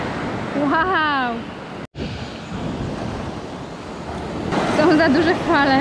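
Steady rushing surf from big waves roars on a beach at Nusa Penida, with excited voices exclaiming over it near the start and again toward the end.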